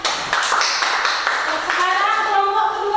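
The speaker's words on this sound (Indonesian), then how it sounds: "Tepuk tangan." Students in a classroom clap for a group's presentation on keeping the environment clean, a scattered round of hand claps near and fairly loud, with children's voices chattering over the latter half.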